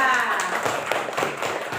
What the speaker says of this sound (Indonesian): Nah, tepuk tangan untuk kelompok 2.